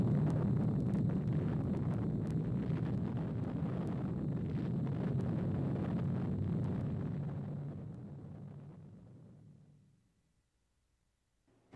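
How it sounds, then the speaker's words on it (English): A 100-ton chemical high-explosive detonation from the Trinity test program gives off a deep, sustained roaring rumble. It holds steady for several seconds, then slowly fades to silence. "This is the largest chemical explosion ever deliberately detonated."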